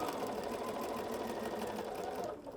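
Sewing machine stitching a quarter-inch seam on patchwork fabric, a rapid, even mechanical whir of the needle running steadily and close, stopping just before the end.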